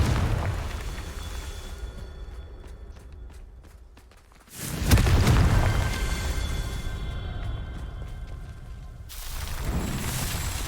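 A blasting-spell explosion in the game Hogwarts Legacy: a sudden deep boom that swells into a rumbling roar and slowly fades, with a second burst of blast noise arriving near the end.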